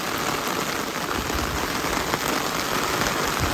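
A steady downpour drums on roads and roofs in rural Bangladesh, a thick, unbroken wash of raindrops, loud and near, with no one speaking.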